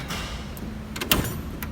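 Drawer of a large Harbor Freight tool box sliding open, loaded with metric and standard wrenches: a short rolling glide ending in a sharp metallic clack, close and fairly loud.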